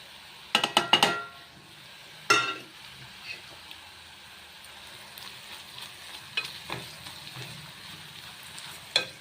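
Carrot and radish fry with chilli powder being stirred in a pan, with a few quick scraping and clinking bursts near the start and again mid-way over a soft, steady sizzle.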